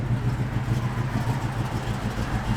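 A 1969 Ford Mustang Mach 1 V8 engine rumbles close by with low, throbbing pulses as it gets a light rev, a steady burbling idle running throughout with no talk.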